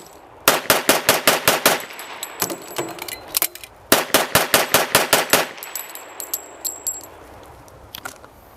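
Two bursts of rapid pistol fire from a 1912-design pistol, about eleven evenly spaced sharp shots each, loud and close with metallic clinks in the pause between strings.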